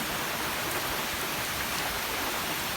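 Heavy typhoon rain pours down in a dense, steady hiss, loud and unbroken, with no voices over it.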